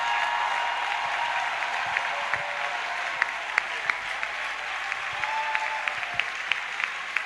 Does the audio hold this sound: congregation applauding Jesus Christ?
yes